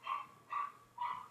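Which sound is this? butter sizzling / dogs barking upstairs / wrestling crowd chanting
dogs barking upstairs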